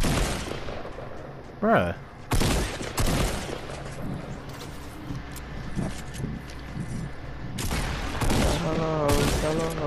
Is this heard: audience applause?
no